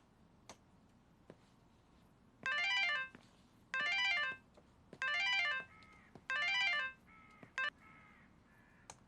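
Four bursts of a melodic electronic phone ringtone sound at steady intervals, fairly close and clear in a quiet indoor room, with faint taps and a short beep near the end.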